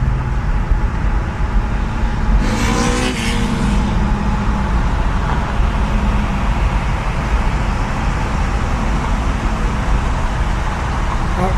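Cars cruising Woodward Avenue on a Monday evening rumble along in a steady stream of engine and road noise, with one brief higher whine passing early on.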